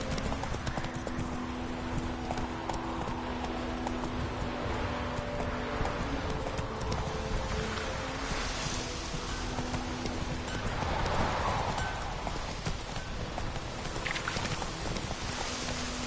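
Roach, the horse from The Witcher game, gallops in a steady clip-clop of hooves that runs the whole time over a low wind-like rumble, with a brief whinny midway.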